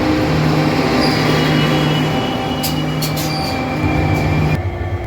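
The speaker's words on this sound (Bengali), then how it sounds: "আমাদের ট্রেন চলে এসছে নিউমাল জংশন স্টেশনের তিন নম্বর প্ল্যাটফর্মে" The Vistadome Tourist Express rolls loudly into platform three at New Mal Junction station, a steady rumble of wheels and carriages with brief high squeals partway through.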